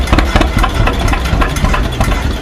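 A John Deere tractor engine runs at a slow, uneven idle during a slow-tractor contest at an expo, with a steady rough chugging rumble and faint knocks, loud and close, without talk.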